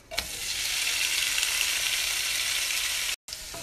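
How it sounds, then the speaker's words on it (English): Shredded carrots and black fungus fry in a pan for a Korean dish, producing a loud, even sizzle with a few light stirring clicks and a brief break near the end. "After the carrots, I'm gonna cook the black fungus."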